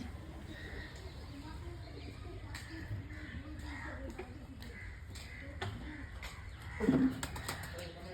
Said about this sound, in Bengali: বিভিন্ন জাতের অনেক পায়রা আছে এখানে